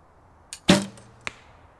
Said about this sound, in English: I love a bow that jumps out of the hand and really puts direction on that arrow